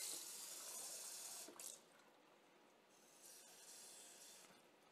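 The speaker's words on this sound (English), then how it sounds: "Take some cold water." Cold water runs steadily from a tap while brown sugar brine is made, a faint continuous hiss and splash with a slight change partway through and no voices.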